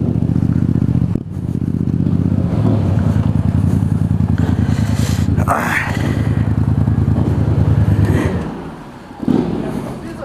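A Yamaha MT-07 and a Honda NC750X ride toward a petrol station. A steady, loud engine drone with rumbling low harmonics runs throughout, mixed with wind rush, and briefly drops and rises near the end.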